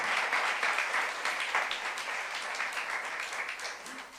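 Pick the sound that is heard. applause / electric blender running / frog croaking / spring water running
applause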